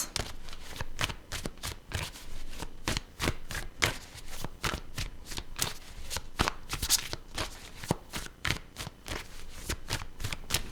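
Tarot cards are shuffled steadily for about ten seconds, a dense run of crisp riffling and slapping bursts, close and clear with no talking.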